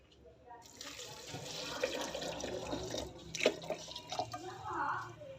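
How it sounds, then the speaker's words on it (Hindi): A glass of water is poured over falsa berries in a container while making sherbet, giving a close, fluctuating splash and gurgle with a few sharper drips and spatters, rising and falling over several seconds. "इसमें शामिल करेंगे 1 गिलास पानी का"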